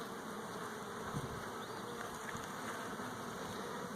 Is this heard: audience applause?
no